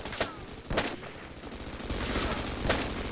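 Gunfire in the Half-Life co-op mod Sven Coop: several sharp, loud shots spaced irregularly, some followed by quick bursts, with no talk.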